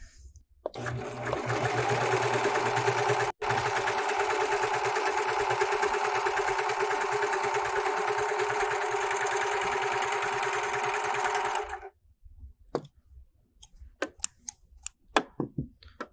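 A serger sewing machine runs steadily with deliberately low needle tension, a loud continuous mechanical whir lasting about eleven seconds with one brief stop, then quiet handling clicks.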